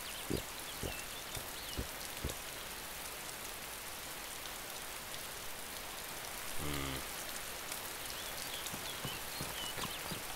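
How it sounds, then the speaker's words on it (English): Rain falling in the survival video game DayZ, a faint, steady hiss with a few brief knocks and a short tonal sound midway, no voices. "Here comes the rain."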